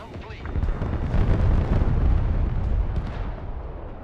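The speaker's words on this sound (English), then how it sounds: "Airstrike complete." Airstrike explosions in a military strategy video game, a sustained rumbling roar of heavy blasts building and rolling on for several seconds, loud and dense with low booms, with some voice chatter mixed in.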